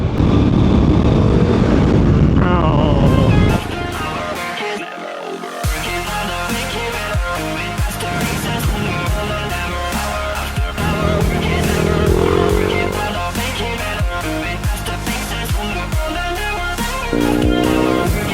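A Honda NC700 and a Kovi 300 Advance motorcycle ride together, loud continuous engine drone with wind rush and shifting revs, a brief dip in noise early on, steady and close throughout without clear talk.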